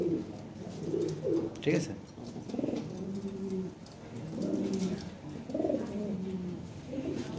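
Lahore pigeons coo repeatedly in low, throaty rolling calls at close range, with several birds overlapping while someone speaks briefly in the background at a seller's loft.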